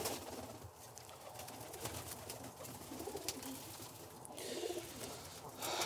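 Birmingham roller pigeons coo softly and continuously in an enclosed loft, with low murmuring calls overlapping and occasional rustling or wing sounds, no talking.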